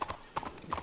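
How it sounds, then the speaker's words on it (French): Horse hooves clip-clop at a steady walking pace on hard ground, three close, distinct double-beat footfalls in under a second. "il est grand votre cheval"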